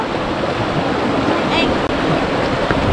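Cold mountain stream water pouring down over rocks, a steady, loud, broadband rushing wash with no pauses, close by and on its own.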